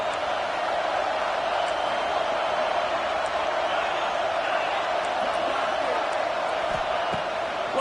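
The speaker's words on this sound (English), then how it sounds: "This crowd trying to make life miserable for this offense" Steady, dense roar of a stadium crowd at a college football game, Cincinnati at Utah, a continuous wall of sound with no pauses and a faint voice beneath it.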